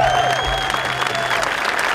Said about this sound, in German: Dann nochmal besonderer Applaus, bitte.